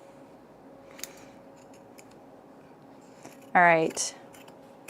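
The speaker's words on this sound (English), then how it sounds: "We're just trimming it down, making the seam allowance nice and even and consistent." Scissors trim a fabric seam allowance, a quick close pair of crisp snipping cuts near the end after a quiet stretch, with a brief spoken remark.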